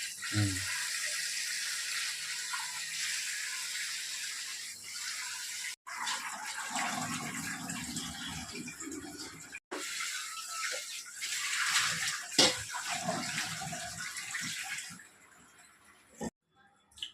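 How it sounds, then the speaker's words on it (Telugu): Tap water runs steadily while soaked lentils are washed by hand in a home kitchen, a broadband gushing hiss with brief breaks and splashes, close to the microphone. "అదే పప్పు కడుగుతున్నావు"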